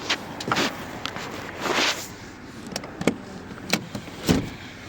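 Rear seat of a 2010 Toyota Vellfire 3.5 petrol seven-seat MPV folding down, a series of short mechanical clunks and latch clicks, close by, with brief rustling between them and no talk.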